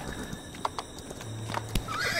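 A horse in a Wild West video game clip-clops along at speed with light, uneven hoofbeats, then lets out a clear whinny partway through, with no voices over it.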